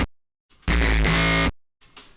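A synthesized laser kick tail layer made in Serum with a comb filter, heard as one dense, loud, buzzy tone lasting under a second, framed by short faint fragments before and after.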